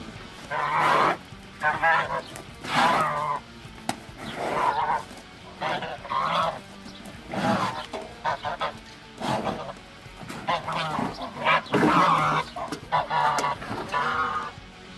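Geese honk loudly and repeatedly in bursts, several birds calling over one another close by with brief pauses between calls.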